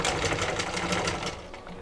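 A sewing machine stitches the shoulder joint of a blouse, producing a close, steady mechanical whirring with a rapid needle clatter that eases slightly toward the end.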